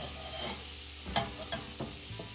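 A grilled cheese sandwich made with waffles sizzles in butter in a pan, giving a steady close frying hiss with a few soft scrapes and taps, and no talking.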